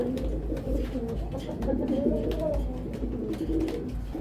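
Racer pigeons coo in low, throaty, rolling calls at a farm, several birds overlapping continuously and close by, with a steady low hum underneath.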